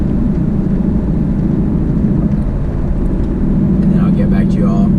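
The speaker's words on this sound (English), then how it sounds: "while we're driving right here, just kind of out cruising" Car cruising at a steady 60 mph on cruise control on an E85 fuel run, a constant low road and engine drone with faint rattles toward the end and no talk.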